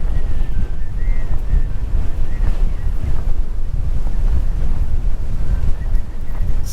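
Strong wind roars across the microphone on Blackpool seafront by the beach, a loud continuous low buffeting rumble with no letup, no voices heard.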